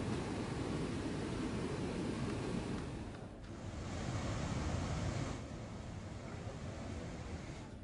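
Water released from a dam into a river roars as a dense, continuous rush, loud and unbroken with slight swells in intensity.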